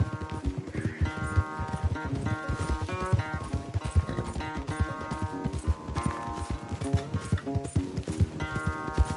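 A horse gallops in a race in the video game Red Dead Redemption II, rapid clip-clop hoofbeats pounding steadily over a game music score, close and continuous.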